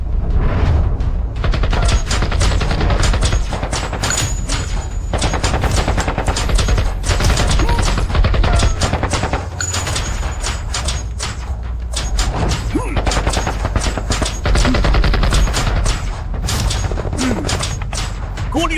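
Dense, continuous gunfire in rapid bursts with thuds and booms fills a long stretch, loud and close, with voices talking underneath in a film-style action scene.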